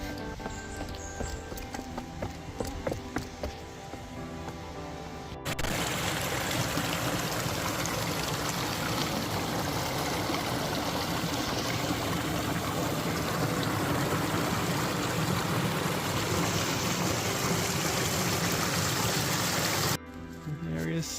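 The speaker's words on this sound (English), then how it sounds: "There's a creek." Water in a creek on a forest walking trail flows in a steady, broad rush that dominates most of the recording, with quieter outdoor sound and brief voices at the start and finish.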